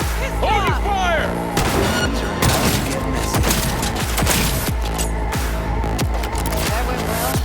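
Gunfire crackles in Cyberpunk 2077, a dense run of repeated sharp shots in quick bursts over a steady loud background of game noise.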